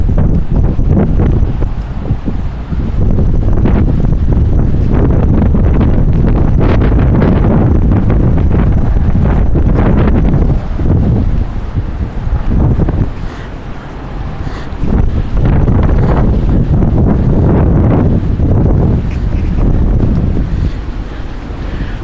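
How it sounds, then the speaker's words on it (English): Strong, gusting wind during a windstorm in Cleveland, Ohio, roaring and buffeting the microphone steadily for the whole stretch, with a brief lull partway through before the blast picks up again; no talking. "We're blowing that wind around really bad. It's blowing real bad."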